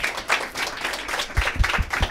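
Audience applause, a brief wash of clapping from a crowd that rises, thins, then picks up again with a few separate claps near the end.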